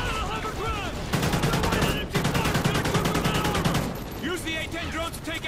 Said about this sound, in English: Use the AK!